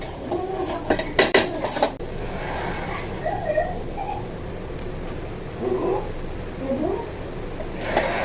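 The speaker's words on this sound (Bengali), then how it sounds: "এই কড়াইটা এই যে বসালাম।" Metal kadai set down on a kitchen stove with a few sharp clanks and scrapes of metal on metal, followed by quieter rubbing, close by, while someone talks over it.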